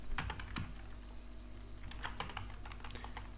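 Rapid keystrokes on a computer keyboard while coding a React Native drawer navigation layout, clicking in irregular bursts throughout, close and clear with a steady hum beneath and no voices.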